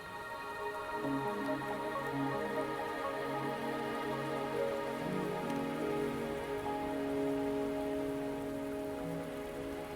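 Rain pours steadily in the video game Wuthering Waves, a dense even patter of drops on surfaces heard alone under sustained soft musical tones, with no voices.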